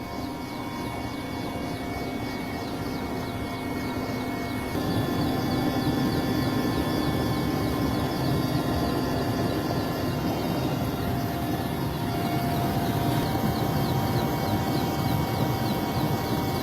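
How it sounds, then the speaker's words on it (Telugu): Navy helicopters flying over a flooded area of Vijayawada, Andhra Pradesh, dropping food packets, a loud steady rotor and engine drone filling the whole stretch without pause and with no talk. "హెలికాప్టర్ల ద్వారా బాధితుల ఇళ్లపై ఆహార ప్యాకెట్లను జారవిడుస్తున్న సిబ్బందిని మనం చూడొచ్చు."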